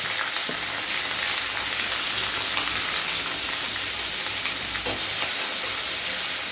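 Onions frying in hot oil with mustard seeds and curry leaves for a tomato gravy, giving a steady, dense sizzle that stays loud and even throughout, with a few faint pops and no talking.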